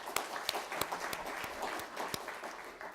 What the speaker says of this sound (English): So you all deserve our applause.